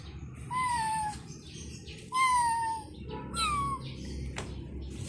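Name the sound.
cat meowing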